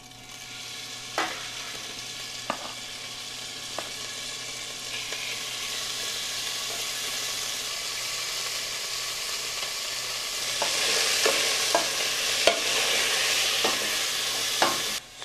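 Ground venison for chili sizzles steadily in a pan while being stirred, with a continuous frying hiss broken by sharp scrapes and clicks of the utensil, the sizzle growing louder toward the end.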